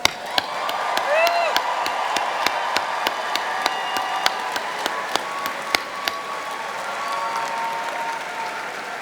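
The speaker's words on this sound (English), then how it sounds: "let's have one more round of applause for our graduates." A commencement crowd applauds graduates at a university media arts and design ceremony, with sustained, full applause, a few sharp nearby claps and scattered whistles or whoops.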